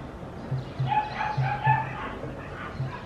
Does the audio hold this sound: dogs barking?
yes